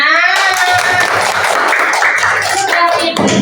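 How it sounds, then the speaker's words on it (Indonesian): A classroom group of pupils claps hands together for everyone, an uneven patter of many hands clapping close by, with some voices mixed in. "Tepuk tangan untuk semuanya."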